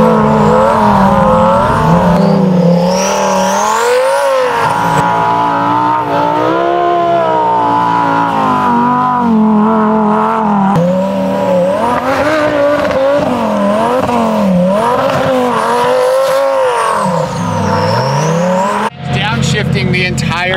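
A Lamborghini Sterrato engine revs hard in the snow, rising and falling as the gearbox shifts up and downshifts, loud and close throughout with voices talking underneath.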